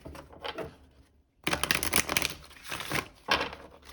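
Crisp, papery riffling bursts of tarot cards being shuffled, a short flutter then a longer loud run, ending with another quick burst, close by with no talking.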